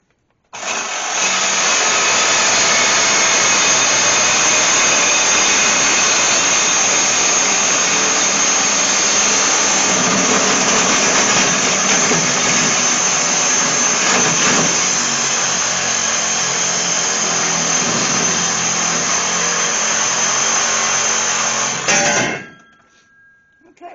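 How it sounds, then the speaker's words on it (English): An abrasive cutoff wheel grinding through an old blown car muffler, a loud steady high-pitched whine held continuously for about twenty seconds before spinning down. "I like to start with a suicide wheel because it cuts faster than the Sawzall."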